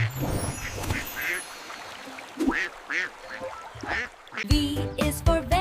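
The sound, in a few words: duck quacking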